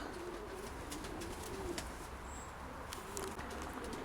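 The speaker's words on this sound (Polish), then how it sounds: "Po najlepszych gołębiach Janzena." Racing pigeons coo softly in a steady murmur at a stud loft, with several birds calling at once against a constant background hum.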